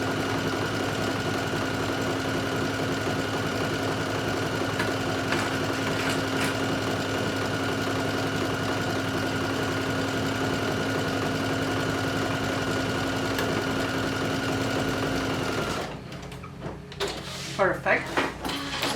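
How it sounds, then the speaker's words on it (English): A sewing machine stitches a sunflower swim top, running as a steady, even mechanical hum for a long stretch before stopping abruptly near the end, followed by a few handling noises. "So now we have the top sewn."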